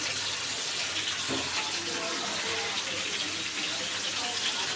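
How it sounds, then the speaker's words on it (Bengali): Pieces of poa fish fry in a pan, giving a loud, steady hiss and crackle that fills the whole stretch without letting up. "এখন আমি মাছগুলোকে ভেজে নিচ্ছি"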